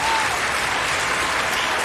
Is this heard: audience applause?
yes